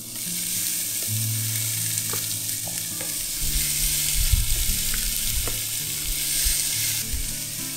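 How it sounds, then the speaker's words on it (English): Pineapple slices brown in a single layer of oil in a pan over medium heat, giving a steady, close sizzle with occasional soft pops and a few light stirring touches, no voices. "Put in the pineapple in one layer at the bottom of the pan."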